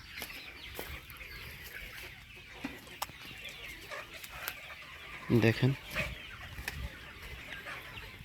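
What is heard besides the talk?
chickens clucking on a poultry farm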